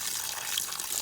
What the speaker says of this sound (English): and then the water will come out.